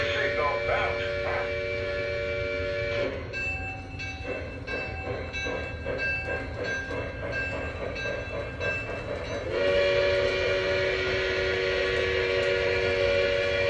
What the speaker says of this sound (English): we'll run it around the track a little bit